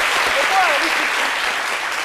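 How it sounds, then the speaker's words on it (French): An audience applauds steadily at a music event, a dense wash of clapping that holds loud and even throughout, with a few brief cheers or voices rising above it. "On est fiers, on vous applaudit très fort à ce sujet."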